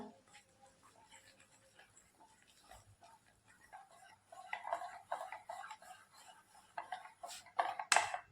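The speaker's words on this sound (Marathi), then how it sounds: "तर पीठ मिक्स करण्यासाठी मी इथं व्हिस्कर घेतलं आहे" A metal whisk beats flour batter in a bowl for thapiv vadi, making quick, light clinking and ticking against the sides, faint at first and then faster and louder near the end.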